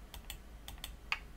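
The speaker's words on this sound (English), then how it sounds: "So the first thing we're going to do is we're going to type C colon." Commands typed on a computer keyboard, several quiet separate key clicks at an uneven pace, close by with no speech.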